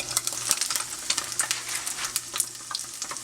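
Cubes of tofu frying in a pan for a vegan BBQ tofu sandwich, a close, steady sizzle with crisp crackles and pops all through and no talk.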